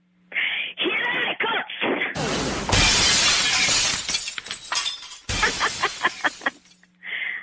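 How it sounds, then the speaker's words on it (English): Soundproof glass shatters after being struck by a thrown boomerang: a loud, close crash bursts into a long spray of breaking shards, with scattered clatter and thumps around it. "That boomerang broke the soundproof glass!"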